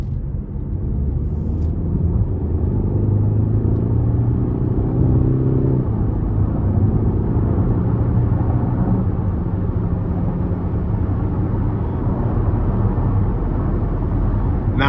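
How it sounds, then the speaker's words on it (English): A 2024 Cadillac XT5 with a 2.0-liter turbo four-cylinder accelerating under light throttle, heard from inside as a steady, loud low rumble with road noise and a faintly rising engine note, no talking. "just under light throttle, I gave it about 1/3, and the turbo, the torque that I had low end was fantastic"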